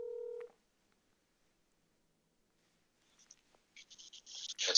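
A brief steady telephone dial tone ends after half a second, then a stretch of silence gives way to quick keypad dialing beeps near the end, before a phone call on a Korean news program.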